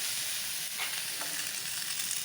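Slices of bread frying in a pan for French toast, a steady soft sizzle filling the whole stretch with a couple of faint scrapes or clicks, no voices.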